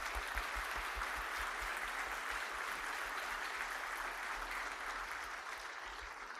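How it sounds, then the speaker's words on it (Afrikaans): Congregation applauding a choir after a church service, a steady wash of many hands clapping at moderate distance with a low rumble beneath, sustained evenly throughout. "Kom ons gee vir hulle nog 'n hande klap"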